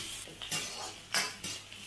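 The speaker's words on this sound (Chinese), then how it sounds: "一直在煸这料，要爆香" Garlic, dried chili and scallion stir-fried in oil over low heat, a soft hiss under several close spatula scrapes and clinks against the wok, brief and with no talking.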